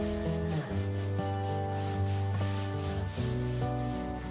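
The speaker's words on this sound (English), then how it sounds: "I lightly sanded using 80 grit sandpaper." Painted walls are sanded lightly by hand with 80-grit sandpaper, a soft continuous rubbing that sits alongside steady background music without any talking.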